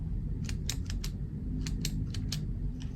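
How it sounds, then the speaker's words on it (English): Several sharp clicks from the retractable ceramic-nib pen of a Supernote A6X2 Nomad e-ink tablet, arriving in small irregular clusters, close but modest in level over a steady low background hum. "Let's take a moment to appreciate that satisfying click."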